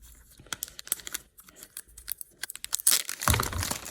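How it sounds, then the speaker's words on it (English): Protective plastic film being peeled off an Apple TV 4K: a series of close, crinkly tearing and crackling bursts, sporadic at first and then louder toward the end. "Let's peel this off."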